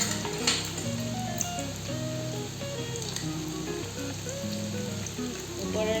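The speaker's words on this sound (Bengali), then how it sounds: "এখন আমি কড়ার মধ্যে বেসন লাগিয়ে একটা একটা করে ভেজে নেব।" Besan-coated bread pakora pieces frying in hot oil in a wok over low heat, a steady close sizzle and crackle with occasional faint clinks, no one talking.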